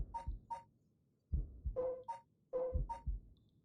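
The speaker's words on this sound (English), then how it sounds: "Continue to listen to the heartbeat while we..." Heartbeat in the horror video game Paranormasight: The Seven Mysteries of Honjo, thudding in paired lub-dub beats, three pairs with pauses between, close and steady, with no talk over it.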